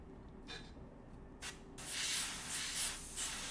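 An airbrush spraying paint gives a steady soft hiss that swells and fades in short bursts, with a fuller continuous spray in the second half over a low background hum.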